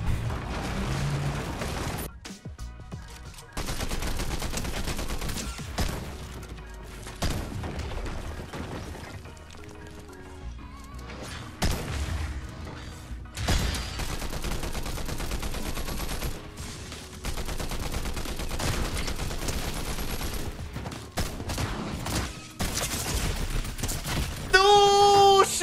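Gunfire from the video game Fortnite: dense, rapid bursts of automatic fire and single shots cutting in and out steadily throughout, mixed with crashes and game effects, close and loud.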